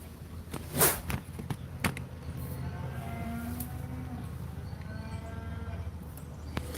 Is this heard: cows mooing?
yes